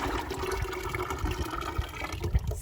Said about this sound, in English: So now I'm going to pour this into this bucket